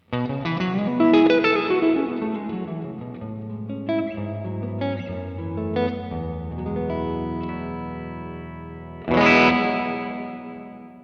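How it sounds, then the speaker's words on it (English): Guitar played through a Universal Audio plate reverb pedal set with pre-delay, sustained notes and chords ringing out with a long wash of reverb, then a loud fresh strum near the end, with no talking. "Let's bring a little pre-delay in there because you want some pre-delay with a plate reverb normally."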